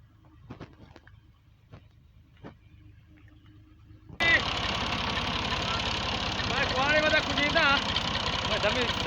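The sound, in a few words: tractor engine idling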